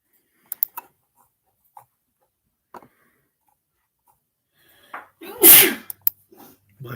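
A single loud sneeze bursts out near the end, preceded by a few faint clicks and small rustles in an otherwise quiet room.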